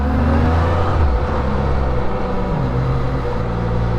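A 2024 Can-Am Spyder RTL three-wheeler engine hums and revs steadily up close during a slow parking lot test ride, the pitch dipping and climbing slightly as the throttle changes.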